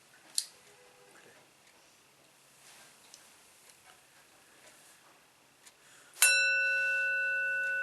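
A meditation bell is struck once near the end, ringing out clearly and decaying slowly in a quiet room, after a few faint taps and small sounds.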